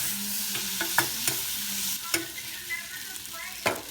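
Noodles being tossed in a shrimp scampi pan: repeated sharp clicks and scrapes of a utensil against the pan over a steady sizzle, close and clear, no talking.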